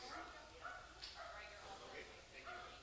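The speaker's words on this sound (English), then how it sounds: "That dog needs to shut up." A dog barks and yips repeatedly but faintly in the background, behind a steady low murmur and a voice.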